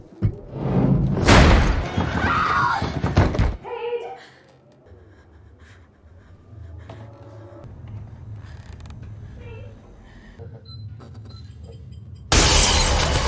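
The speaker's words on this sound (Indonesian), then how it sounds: "Lampu tiba-tiba pecah" Lamp glass shatters in a scene from the 2024 horror film Tarot: a loud, dense crash and clatter for a few seconds, then a hushed stretch with low rumbling, and another sharp loud burst at the end.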